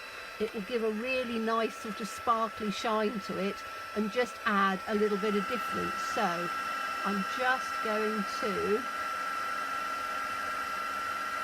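An embossing heat tool runs steadily at close range while it heats up during card making, a continuous blowing whir that stays under a woman's speech throughout.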